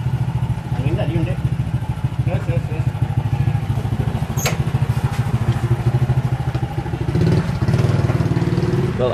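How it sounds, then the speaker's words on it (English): Motorbike engines buzz and rattle continuously in busy Bali traffic, several machines close by, with a horn-like tone briefly cutting through. "Well, I have never seen more motorbikes in my life"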